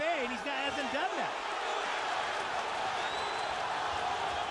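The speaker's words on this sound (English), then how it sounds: "the crowd going bonkers here" A boxing arena crowd roars and cheers loudly at a fight between Roman Martinez and Orlando Salido, a dense sustained wash of noise with a commentator's voice briefly over the start.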